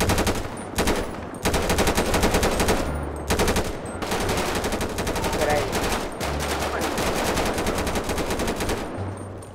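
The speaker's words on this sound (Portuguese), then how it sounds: "Tô dando um tiro nas moitas pra ver se tem alguém." Automatic gunfire from GTA 5 roleplay rattles into bushes in long rapid bursts, loud and close, broken by a few brief pauses, with faint voices under it.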